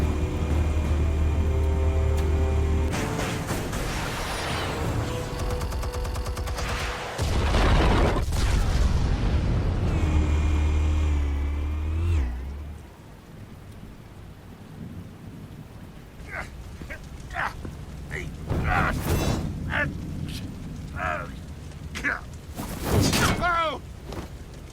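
Explosives detonate in the Batman The Telltale Series game with loud, booming blasts and deep rumbling that build and fade. Scattered cracks and thuds follow, and voices speak around them.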